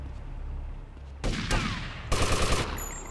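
Two loud bursts of gunfire in GTA Vice City during a police standoff downtown, each a dense crackling volley with the second rattling like rapid fire, heard up close with no talk.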